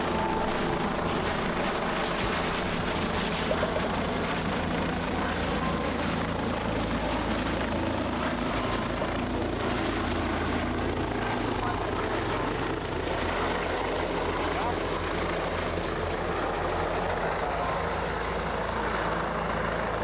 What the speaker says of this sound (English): I just paused the talk altogether so we could watch this badass helicopter land